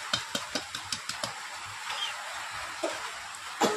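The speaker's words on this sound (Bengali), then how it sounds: "খালি করে ভেজে দিতে হবে, ভালোভাবে ভেজে নেবে। একটু নাড়াচাড়া করবেন।" Potato chips dusted with cumin powder are stirred in a pan as they fry without extra oil, with steady soft sizzling and a series of light scraping taps from the spatula, close and fairly quiet.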